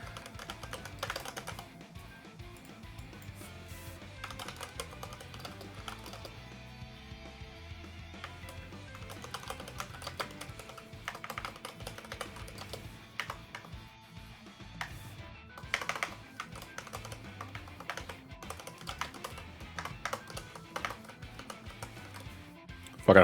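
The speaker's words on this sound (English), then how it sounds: "I hope you hear it for keyboard ASMR for the record" Steady typing on a computer keyboard, irregular quick clacks and taps running throughout at a modest, close level, with faint talk in the background.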